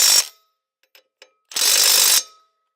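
A Milwaukee M12 FUEL 3/8-inch stubby impact wrench (2554-22) hammers on a bolt, two loud rattling bursts, the first brief and the second about a second long, separated by a few faint mechanical clicks.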